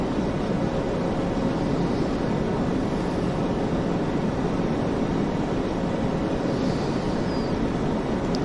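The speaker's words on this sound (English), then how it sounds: "If you listen close enough, you can hear the engines in the background." Jet engines of a PMDG 737-900 in a flight simulator game drone steadily at cruise altitude, a constant broad rushing hum that runs unbroken throughout with no talk.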